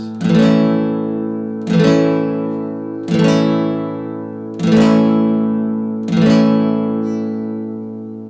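An acoustic guitar chord strummed six times at a steady, slow pace, each strum ringing out and fading before the next.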